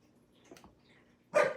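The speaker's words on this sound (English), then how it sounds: "The neighbor must have let their dog out, and so Ein just feels the need to conversate" A single sharp dog bark near the end, close and loud, after a quiet stretch with faint movement sounds.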